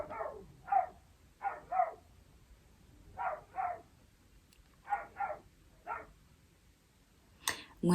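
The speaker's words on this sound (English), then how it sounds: "when dogs be barking at nothing." A dog barks repeatedly in short bursts, often in pairs, with pauses between, fairly close and clear against a quiet background.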